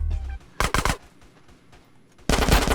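Rapid automatic gunfire from GTA San Andreas comes in two loud bursts, a short double burst near the start and a longer sustained burst at the end, with quieter game ambience between them.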